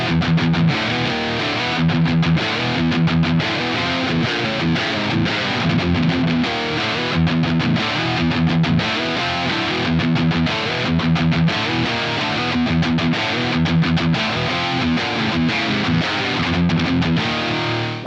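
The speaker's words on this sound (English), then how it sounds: "So I think we should go through some slightly higher gain tones." A cheap Harley Benton metal electric guitar plays higher-gain distorted tones, heard as loud saturated chugging riffs with rhythmic palm-muted stops and sustained power chords, continuous and alone.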